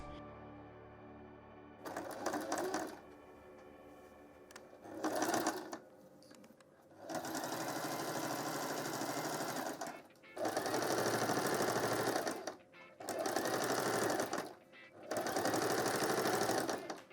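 Sewing machine hemming fabric frills folded twice at a half inch, running in several loud bursts of a few seconds each with short pauses between, alone without talk.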